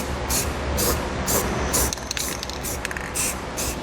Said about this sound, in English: it's a good idea to use a little spray paint to help protect this bare metal